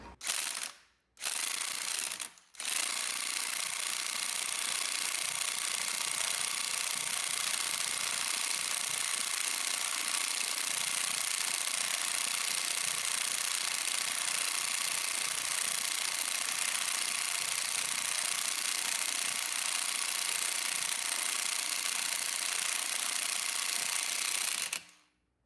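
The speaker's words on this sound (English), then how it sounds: "I think I'll just get it going with the impact wrench" Impact wrench driving a new front wheel bearing into a 2002 Acura TL-S hub, a steady loud continuous buzzing hammer with two brief pauses near the start, running alone for over twenty seconds before stopping abruptly.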